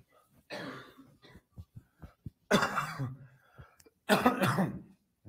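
Several coughing bursts up close, with short breathy sounds and small clicks in between, the loudest fits near the middle and end.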